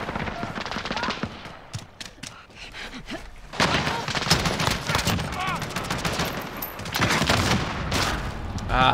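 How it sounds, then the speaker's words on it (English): Rapid gunfire from shotguns and other weapons in Call of Duty: Modern Warfare, a dense stream of loud close shots that builds in intensity over the second half, with game voices faintly underneath. "Ah, the shotguns."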